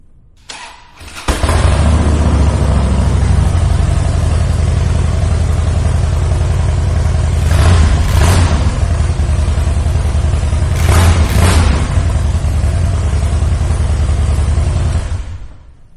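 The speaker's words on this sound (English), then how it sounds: "I am gonna take the opportunity right now to fire this bike up so you can hear that Vance and Hines." A 2007 Harley-Davidson Low Rider with Vance and Hines exhaust fires up and settles into a loud, close, throbbing V-twin idle, with two sharp throttle blips partway through before the engine cuts off at the end.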